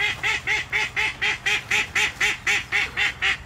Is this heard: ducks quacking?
yes